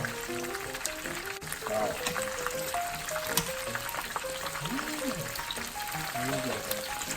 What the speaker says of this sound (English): So just dip in the oil for a while.